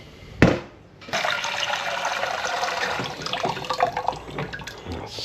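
Water pours into a pot for steaming crab at an island campsite, a loud continuous gushing splash after a sharp knock, running steadily for several seconds.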